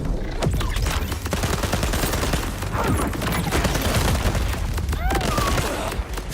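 Rapid bursts of weapon fire and booms fill a Borderlands 4 battle, dense and loud throughout, with a companion's gun joining in.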